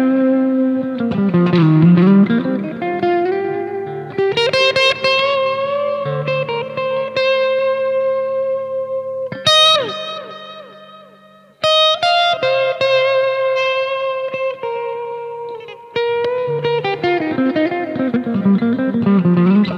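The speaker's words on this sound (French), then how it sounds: "On va passer sur un son qui va nous permettre de faire du solo avec une overdrive." Overdriven electric guitar playing a solo through a Boss GT Pro effects processor, sustained singing notes and bends with reverb, some pauses and abrupt restarts, loud and alone without talk.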